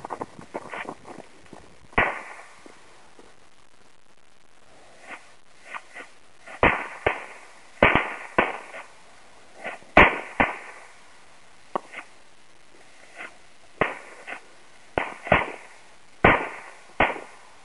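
A backyard fireworks cake, a 15-in-1 super jumping jacks, fires a long irregular run of sharp pops and crackling bursts, some in quick clusters and others spaced a few seconds apart, with no talk.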